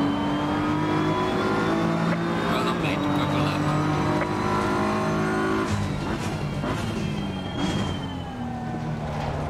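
Race car engines in Assetto Corsa Competizione, with Mercedes and Porsche GT cars on track, hold a loud, steady high-revving drone that shifts pitch through gear changes, with brief tire squeal and someone talking over it.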